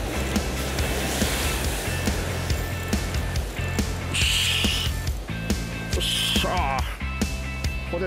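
Waves surge and break against a rocky shoreline on Aji Island, Miyagi, a steady close wash of surf with bursts of spray, while people talk over it.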